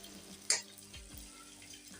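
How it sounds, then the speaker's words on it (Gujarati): Edible gum resin frying slowly in hot ghee over a low flame, giving a soft, steady sizzle that continues throughout, with a couple of brief clinks from a stirring spoon against the pan. "ઘી આપણું ગરમ થઈ ગયું છે તેમાં આપણે થોડો થોડો ગુંદર નાખી અને તળી લઈશું"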